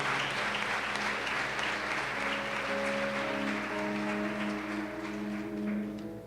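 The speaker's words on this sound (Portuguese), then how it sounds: "Dá uma salva de palmas para Jesus" Sustained applause fills a church service as the congregation claps steadily throughout, loud and continuous, with a held organ or keyboard chord sounding underneath.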